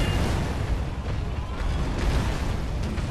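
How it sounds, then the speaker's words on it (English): The firecracker prosthetic tool goes off in Sekiro: Shadows Die Twice during the Lady Butterfly boss fight, giving a loud, dense burst of crackling pops that fills the whole moment without letup. "Firecracker down."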